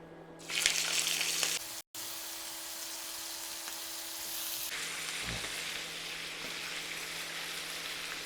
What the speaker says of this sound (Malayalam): അങ്ങനെ ബട്ടർ മെൽറ്റായി വന്നിരിക്കുന്നു ഇനി നമുക്ക് ചിക്കൻ ഇട്ട് കൊടുക്കാം